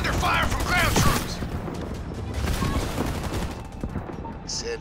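In Halo Wars 2, ground troops unleash bursts of rapid gunfire and rattling fusillades that crackle loudly at first and then persist under clipped unit voice lines amid battle noise.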